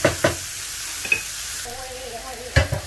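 Onions fry on medium-high heat in an uncovered pan for a pomfret dopiaza, giving a continuous sizzle broken by a few sharp stirring scrapes and knocks, with a brief low hum partway through.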